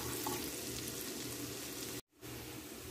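Garlic frying in a pan and being stirred, with a steady broad sizzle over scraping from the spoon, then a brief pause before the sizzling resumes.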